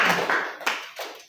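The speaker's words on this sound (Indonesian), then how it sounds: "Berikan tepuk tangan untuk orang tua kita." A church congregation gives a short burst of hand claps, a few scattered sharp claps fading quickly.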